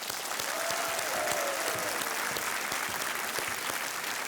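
Sustained, dense applause from a large studio audience at a TV quiz show, welcoming nine family pairs of contestants; steady and full throughout, with faint tones and crowd murmur beneath.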